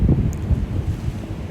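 Wind gusts buffet the microphone at the seashore, with low rumbling waves beneath in a brief, loud burst.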